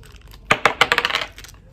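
Dice from a Top Gun board game drop onto a hard surface, a quick cluster of sharp clicks bouncing and rattling close by before settling.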